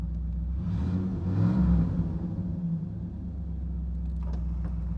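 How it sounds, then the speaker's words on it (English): 1989 Pontiac Trans Am GTA engine rumbling low and steady, swelling briefly as it revs up and then settling back to an idle drone, heard fairly close with no talk. "The motor sounds very, very healthy and strong."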